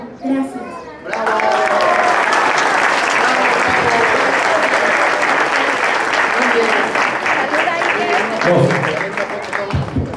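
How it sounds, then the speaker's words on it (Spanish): A graduation ceremony audience breaks into loud, sustained applause for student Iker after a brief spoken phrase, the clapping dense and steady for several seconds before tapering slightly near the end. "pero fuerte el aplauso"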